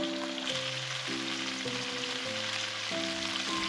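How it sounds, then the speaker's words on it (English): Chunks of pork for a Goan pork roast brown in a hot pan with a steady, close hiss of sizzling fat that runs the whole time beneath melodic background music. "Make sure you're browning it on all sides."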